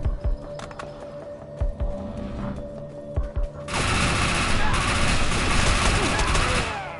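Dense, rapid gunfire from Defiance 2050 on PS4: a few sparse shots give way to a sustained loud fusillade of overlapping automatic fire that fills the second half.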